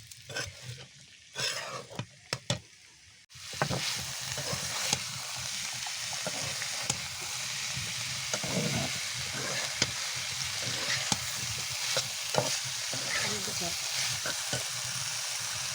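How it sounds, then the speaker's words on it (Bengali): Potato, onion, green chili, pointed gourd flesh and chickpeas frying in a pan as a filling for vegetarian potol dolma: a continuous close sizzle with occasional scraping stirs and a few utensil clinks. "দেখো আলু, পেঁয়াজ, কাঁচা লঙ্কা, পটলের শাঁস, ছোলা, এগুলো দিয়ে মশলাটা পাকিয়ে নেব।"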